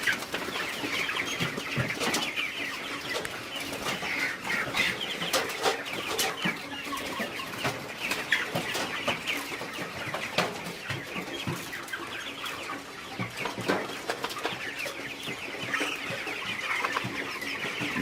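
Broiler chickens clucking steadily throughout a pen house, a dense continuous flock chorus with occasional wing flaps, moderately close and with no talking.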